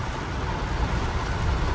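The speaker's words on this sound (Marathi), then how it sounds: "पाणी बघा केवढा जोरात पडतंय भाई" Heavy rain pours down steadily as a dense, loud, even wash of noise with no break and no talk.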